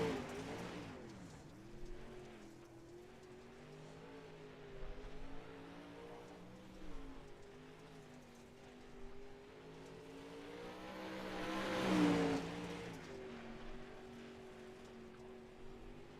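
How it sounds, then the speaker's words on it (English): Pro late model race car engine on the Fairbury track in iRacing, a sustained droning hum that rises and falls through gear changes, swelling to a louder pass near the end. "Next on track, car number 357 is Cody Sieber."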